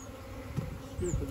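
Honeybees buzz softly around a swarmed hive, a faint steady hum with a couple of louder passes.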